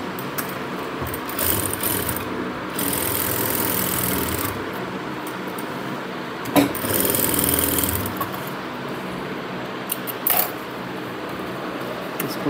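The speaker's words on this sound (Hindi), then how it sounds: "तो हम किनारे पे सिलाई लगा लेंगे" A sewing machine stitches along the edge of cargo half pants in several short bursts of mechanical whirring, with pauses and clicks between runs.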